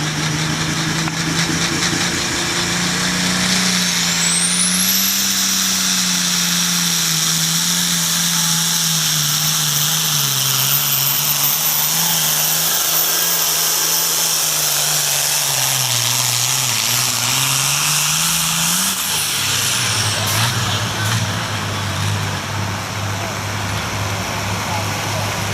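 A modified pulling tractor called the Demented drags the weighted sled at a tractor pull, its engine roaring loud and unbroken for the whole stretch with a rising whine. An announcer's voice rides over the din.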